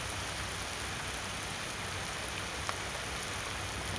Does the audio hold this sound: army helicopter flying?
no